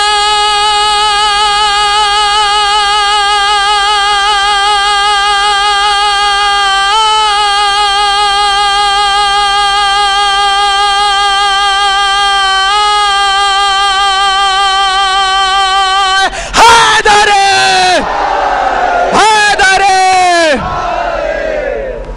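A large mourning congregation at a Shia majlis in Jogipura, Bijnor, India, chants a slogan together in loud, sustained unison that rises into two sharp, roaring bursts of collective shouting near the end.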